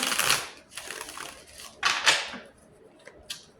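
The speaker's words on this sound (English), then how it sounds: "Let me shuffle." Tarot cards being shuffled by hand in a series of quick papery riffles and slaps, close up, with several short bursts separated by brief gaps and no speech.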